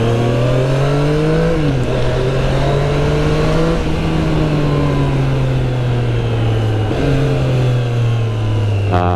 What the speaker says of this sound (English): the stock exhaust on the triples sounds absolutely amazing